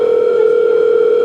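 A telephone dial tone sounds while a call is being placed, a loud, steady, unbroken electronic hum held at one pitch for over a second, with nothing else heard.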